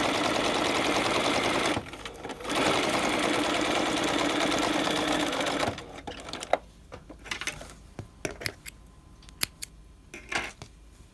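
A sewing machine runs a straight 2.5-length stitch along a half-inch seam on double cloth, a loud steady whirring burst for several seconds, a short pause, then another run that stops, followed by scattered clicks and handling noises.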